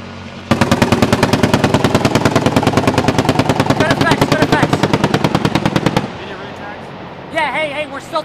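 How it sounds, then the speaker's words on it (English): Rapid automatic gunfire rattles in a long continuous burst during a laser-guided air support exercise, loud and close for over five seconds before cutting off, followed by faint radio-like voices and scattered noise. "Still taking sporadic fire."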